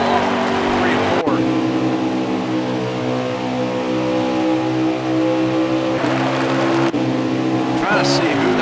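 Race cars in a video game at Darlington drone loudly, engines holding steady pitch then surging as cars pass close by, with a commentator talking over the engine noise.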